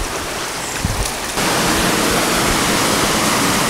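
U Falls in South Cebu pours down as a loud, dense wash of water that jumps to an even fuller, steady roar partway through, close and continuous with no voices.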